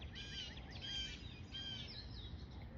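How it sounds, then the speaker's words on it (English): Birds sing outdoors in the morning, a faint, distant series of repeated chirping phrases over a low background rumble, with no talking. "I don't know if you can hear the birds in the background."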